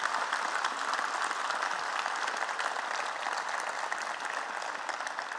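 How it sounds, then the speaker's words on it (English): A graduation ceremony crowd, fire recruit academy graduates and families, gives a sustained round of applause, steady and dense clapping at moderate volume throughout with no talking. "That's worth a round of applause."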